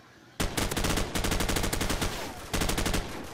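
Rapid automatic gunfire from a modded Call of Duty MW match comes in three loud, close bursts of tightly spaced shots, with brief gaps between them and no talk.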